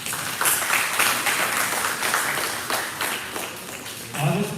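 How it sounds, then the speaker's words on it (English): An audience at the Hindu Temple of Florida applauds temple volunteers during Ganesha Chaturthi festivities, a steady wash of many hands clapping at moderate loudness, with a voice briefly audible near the end. "Please give them a big round of applause."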